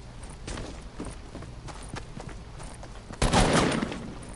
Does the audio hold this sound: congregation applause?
no